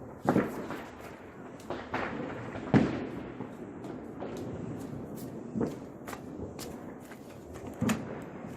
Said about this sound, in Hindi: तो ये पटाखे बजाएंगे थोड़े से शगुन के लिए